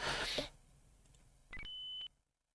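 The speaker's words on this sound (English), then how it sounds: "That little notification noise that you heard then is the game's score increasing" A game score-increase chime from Police Quest 3 on the Amiga: a short electronic beep that rises to a sustained clear tone for about half a second, heard after a brief burst of noise, with quiet background between.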